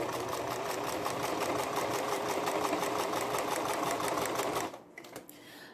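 A sewing machine runs steadily, stitching long straight basting stitches in a fast even rhythm for several seconds, close and fairly loud, then stops abruptly near the end with a few faint handling clicks.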